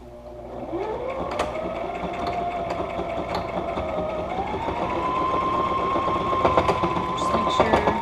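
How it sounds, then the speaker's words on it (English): A sewing machine stitches the folded hem of a fabric face mask, its motor whirring steadily and rising in pitch as it speeds up, with a close mechanical hum and light tapping of the needle throughout. "And then I'm going to sew it on the inside part."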